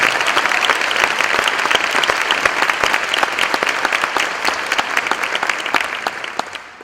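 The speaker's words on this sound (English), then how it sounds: "Would everyone give Hampden-Sydney and Thompson Hospitality a round of applause?" A banquet audience at the Moton Community Banquet claps for Hampden-Sydney and Thompson Hospitality, a steady round of dense applause from a sizable room that runs for several seconds before tapering off at the close.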